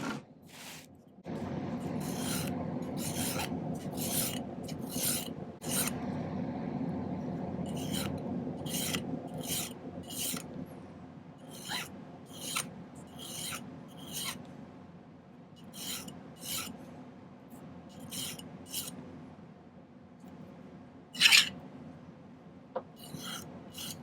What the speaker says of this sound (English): I'm going to start by tapering this end down a little bit with the file